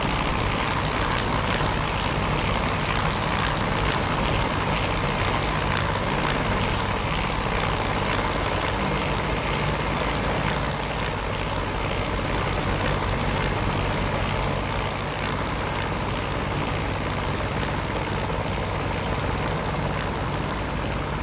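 Bell 430 helicopter in a flight simulator, rotor and turbine noise held in a hover, a loud continuous broadband whir with steady rhythmic blade chop throughout, no talk.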